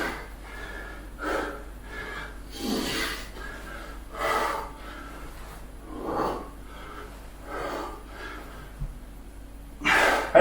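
Heavy breathing during a circuit training exercise: loud, close breaths in and out with puffs and gasps at an uneven rhythm, in a quiet room with no talk.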